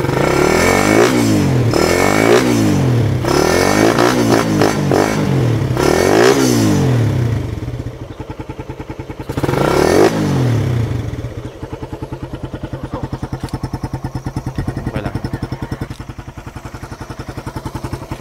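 A motorcycle's exhaust revs hard and close, with several rising and falling throttle blips, before settling into a loud, rapid, chugging idle that ends with one more short rev. No one talks.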